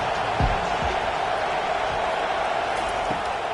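A stadium crowd at a Temple vs Kennesaw State college football game makes a constant broad roar of massed noise, with a few faint thumps underneath, heard from a distance.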